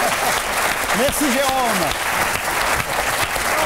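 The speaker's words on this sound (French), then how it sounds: "Allez, on applaudit Jérôme Bonaldi." A French TV studio audience applauds steadily throughout a variety show, dense clapping under a host's brief spoken thanks.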